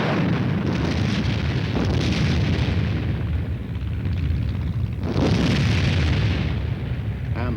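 U.S. Army artillery guns firing in a continuous, dense roar of booms and blasts, loud and sustained, with a fresh heavy burst near the five-second mark.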